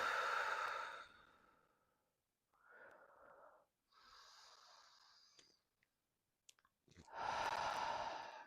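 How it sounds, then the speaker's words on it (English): Slow meditative breathing, drawn in through the nose and let out through the mouth, comes in soft separate breaths with short pauses between them. It is close and quiet, and no one speaks over it. "Breathing in through the nose"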